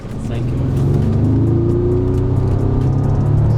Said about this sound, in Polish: tak brzmi auto, jak się da mu trochę gazu